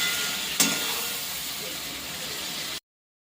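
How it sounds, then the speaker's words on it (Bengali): Spices with salt and turmeric fry in a hot pan, a steady hiss of sizzling with one brief sharp burst near the start, fairly close and without talk. "নুন হলুদটাও দিয়ে দেবো। 2 মিনিট ভাজা কষিয়ে নিয়ে তারপরে পেঁয়াজ অ্যাড করবো।"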